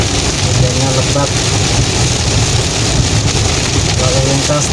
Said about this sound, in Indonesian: Kita pelan-pelan saja melewati hujan di tengah hutan ini guys